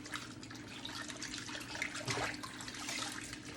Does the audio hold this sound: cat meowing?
no